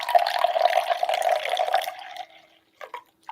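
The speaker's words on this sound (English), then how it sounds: "I'm going to pour out some water." Water poured into a glass for a magic trick, a steady close splashing trickle for about two seconds that tapers off, followed by a couple of brief light knocks.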